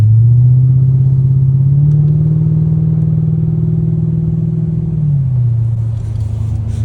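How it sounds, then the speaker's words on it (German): Mercedes CL500 V8 with an AMG conversion and straight-pipe exhaust, no muffler, driving: a loud, deep, steady exhaust drone that rises slightly in pitch midway, then drops back near the end. "es ist immer wieder geil, CL ohne Auspuff zu fahren"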